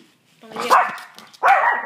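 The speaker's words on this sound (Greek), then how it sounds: "Γαβγίζουν τα σκυλιά έξω" Dogs bark outside in two loud, harmonic bursts separated by a short pause, the second sharper and closer-sounding than the first.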